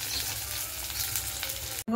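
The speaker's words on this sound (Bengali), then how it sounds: "এইভাবে আমার মা মশলা দিয়ে মাছ ভাজে" Fish fried with spices in a pan in a home kitchen, a steady close sizzle with light stirring noise, continuous and fairly loud until a brief cut at the end.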